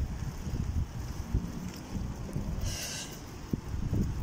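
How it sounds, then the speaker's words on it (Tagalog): Steady low wind rumble buffeting the microphone, with a brief brighter whoosh midway and a couple of thumps. "Tsaka mahangin."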